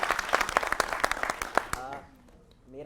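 A TV studio audience at a news debate show breaks into brisk, loud applause that claps steadily for under two seconds, then fades out.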